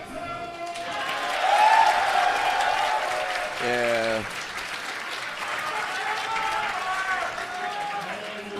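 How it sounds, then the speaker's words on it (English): A large esports finals crowd cheers and applauds in a continuous roar, with an announcer's voice carrying over the noise and a brief tonal sound effect in the middle. "I want to hear the crowd get loud for Skeleton."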